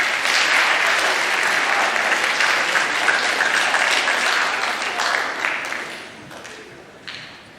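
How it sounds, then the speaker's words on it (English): A crowd claps loudly and steadily for several seconds, then the applause thins and fades toward the end. "give these guys a round of applause"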